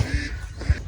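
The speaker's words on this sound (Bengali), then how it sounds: "এই যে বক পাখি ডাকতেছে" A heron near a village calls in a few short, harsh, quack-like bursts, one at the start and another near the end, over soft background noise.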